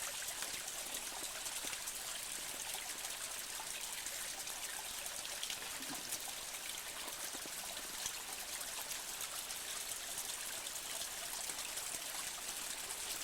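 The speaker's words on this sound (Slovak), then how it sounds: "teraz máme pravdepodobne ten najväčší vodopádik" A small waterfall in a narrow gorge in Chmeľová ravine, Kopytovská valley, gives a constant, even hiss of falling and splashing water, fairly soft and unbroken, with no voices.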